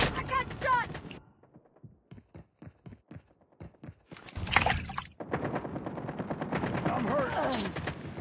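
Rapid bursts of automatic gunfire from a Call of Duty Mobile team deathmatch crackle in quick rhythmic volleys, loud and close, mixed with in-game voice callouts.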